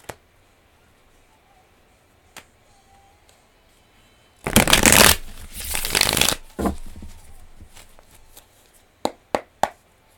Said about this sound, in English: I just wanted to go ahead and throw some cards down for anyone who sees it.